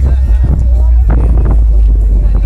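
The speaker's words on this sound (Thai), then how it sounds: "นี่คือบรรยากาศตลาดนะครับ" A busy outdoor secondhand and antiques market crowd murmurs steadily, with many overlapping voices and a constant low wind rumble across the microphone.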